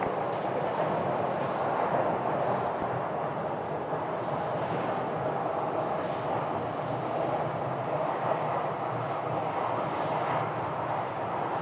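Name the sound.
airplane taking off from runway 25 right at Phoenix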